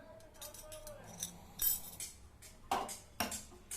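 A metal disc plate is fitted into a sev press in a home kitchen while making garlic sev for Diwali, producing several sharp metallic clinks and scrapes at irregular intervals against a quiet background.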